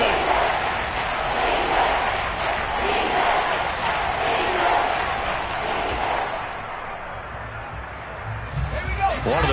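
Football stadium crowd before a big third down, a dense roar of cheering and shouting with sharp whistle-like accents, steady and loud, with a commentator talking over it.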